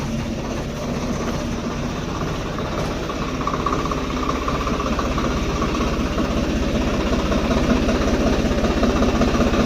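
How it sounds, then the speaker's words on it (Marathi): A farm tractor's engine idles steadily throughout, with a constant low rumbling drone and a slight rise in level toward the end; no voices. "हे बा इथं ट्रॅक्टर वगैरे प्रणव जोडतोय"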